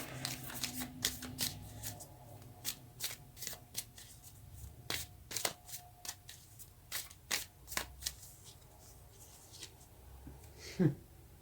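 Tarot cards shuffled by hand in repeated crisp riffling bursts, close and fairly quiet, with a brief voice near the end.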